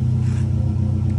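A Subaru engine idles through a Bassani muffler, producing a loud, steady low exhaust burble with an even pulsing rhythm, close and alone.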